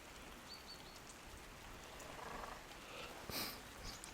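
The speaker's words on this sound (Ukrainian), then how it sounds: "Дощик іде активний." Soft, steady rain patters quietly throughout, with a brief slightly louder splash or rustle near the end.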